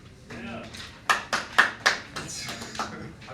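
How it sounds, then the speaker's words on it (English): A small group of people in a classroom clapping, a short burst of about eight sharp hand claps that build and then trail off, close by, with faint voices around them. "I've been trying to get everybody to clap all day."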